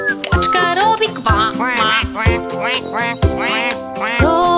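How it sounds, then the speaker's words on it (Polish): A cartoonish duck quack repeats several times in a steady rhythm over upbeat music in a Polish children's animal song. "kaczka robi kwa"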